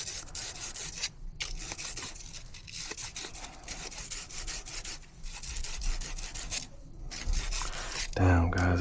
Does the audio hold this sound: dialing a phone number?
no